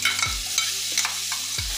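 Amla being stirred into foxtail millet rice with a spoon, scraping and clinking against the pan in a few brief strokes over a soft background hiss, with no one talking.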